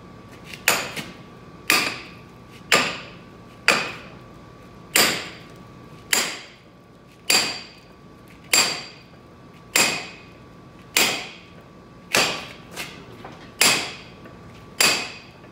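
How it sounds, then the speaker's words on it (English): A sledgehammer drives a punch into a metal shaft with about fourteen sharp metallic clanks at a steady pace of roughly one per second, each one loud, close and ringing briefly, with no speech. "And now I'll pound it out with this punch"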